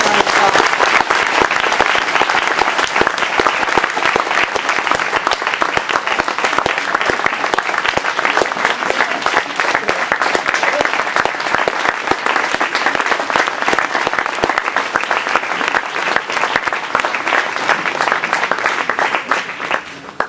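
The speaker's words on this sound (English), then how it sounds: "Let's give them a round of applause." Sustained, dense applause from an audience honouring teachers and staff at a community event, loud and steady for about twenty seconds with no break.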